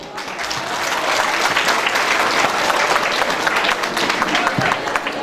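Sustained applause from a wedding audience after a woman recites a nine-stanza poem from memory, a dense steady wash of many hands clapping that runs loud and unbroken from start to finish.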